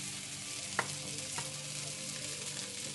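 Garlic sizzles in a cast iron pan beside USDA Prime rib eye steaks, a soft, even frying hiss broken by a few light stirring clicks.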